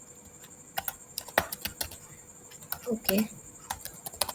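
Computer keyboard typing while code is written, with irregular bursts of close key clicks and a few louder taps, under brief speech and low background hiss.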